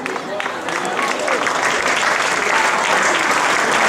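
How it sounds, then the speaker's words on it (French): Applause for a football club at a youth tournament prize ceremony, a crowd clapping steadily and growing a little louder, with voices talking underneath. "À la 9e place, merci d'applaudir Le Mans FC."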